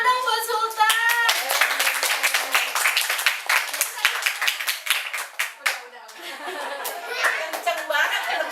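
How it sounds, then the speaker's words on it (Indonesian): Pupils in a school religion class clap their hands for a classmate, sharp close claps in an uneven burst, with children's voices and some chuckling mixed in and a brief lull before the clapping picks up again. "Tepuk tangan dong buat Sultan."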